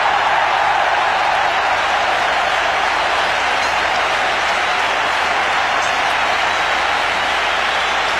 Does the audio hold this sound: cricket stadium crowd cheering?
yes